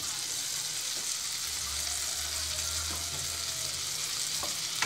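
Garlic and achiote paste fry steadily in a hot pan for rice with meat trimmings, giving a dense, even sizzle with a low hum beneath and occasional small pops.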